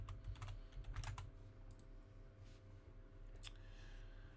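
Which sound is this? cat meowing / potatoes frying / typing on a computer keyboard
typing on a computer keyboard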